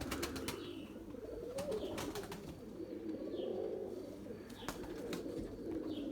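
A flock of Turkish tumbler play pigeons keeps up a continuous low cooing, broken by scattered sharp clicks and a light flutter, nearby and without any voices.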